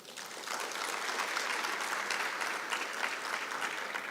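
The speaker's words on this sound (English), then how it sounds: "So can we give him a round of applause?" Steady, dense applause from a conference audience fills the room for about four seconds, rising quickly and holding an even level without speech over it.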